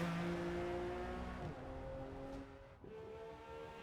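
A Ferrari Dino's engine revs on the Daytona tri-oval in Forza Motorsport, a steady tonal whine that drops off sharply twice as the gears shift, then climbs again, with no talking.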